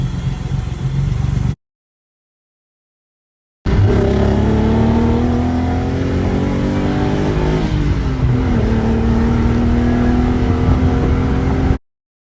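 A 1990 Nissan 300ZX engine runs after a clutch master and slave cylinder replacement: loud, close, steady running that rises in pitch as it revs, then a short gap, then sustained running again.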